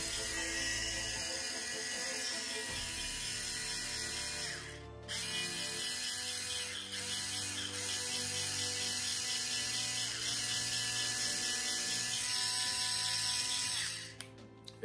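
Electric brush cleaning machine running with a steady mechanical whir and ratcheting rattle, continuous and fairly loud for most of the stretch, with a brief dip near the start and cutting off at the end.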